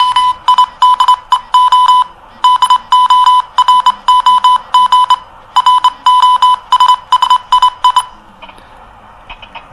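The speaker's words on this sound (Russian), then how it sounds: "Моментально перевела в телеграфный код, и вот как это звучит." Rapid bursts of electronic Morse code beeps at a steady pitch, sent as a spoken Russian phrase rendered into telegraph code, grouped into dense runs with short pauses between them, loud and clear with no voice.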